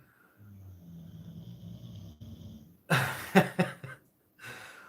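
A dog snores with a steady, low rumbling breath, pauses briefly, then lets out a few louder, sharper snorts before falling quiet. It is fairly close and heard alone, with no talking.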